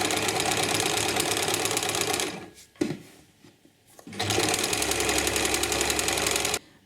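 A sewing machine stitches a pillowcase seam made from a men's shirt, a loud close rapid whirring run that stops briefly for a few soft clicks, then resumes steadily.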